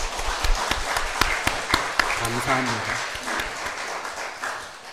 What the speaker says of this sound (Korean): 우리 어르신들 위해서 다 같이 박수